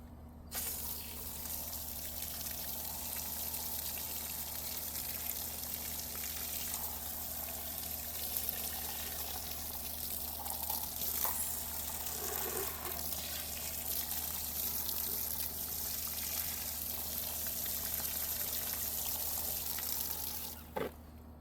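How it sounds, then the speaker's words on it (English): Water pours steadily and fairly faintly onto soil over freshly planted yams, a continuous gentle gushing with a low hum underneath and no voices. "I'm gonna water this in really good before we walk away"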